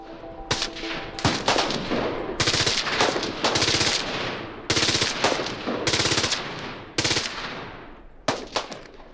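Rapid bursts of gunfire from hobby shooters out in the desert, several sustained automatic strings and single cracks in quick succession, loud and echoing across open ground with no talking.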